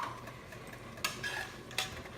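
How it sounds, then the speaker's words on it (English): Stovetop stuffing being stirred in a pot over low heat, a soft steady scraping with two distinct spoon knocks against the rim, close and quiet. "Stir this up."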